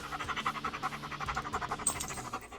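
Dogs pant in quick, steady rhythmic breaths, soft and close, with no talking over them.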